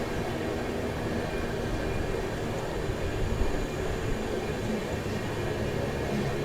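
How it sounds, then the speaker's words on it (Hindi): The 12152 Samarsata Express rolls into Rajnandgaon station with a continuous rumbling, rattling rail noise, a steady dense roar heard from on board with no voices over it. "12152 समरसत्ता एक्सप्रेस पहुंच चुकी है राजनांदगांव 1:07 पर।"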